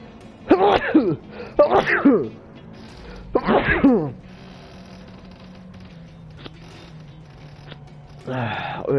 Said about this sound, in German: Erstmal niesen.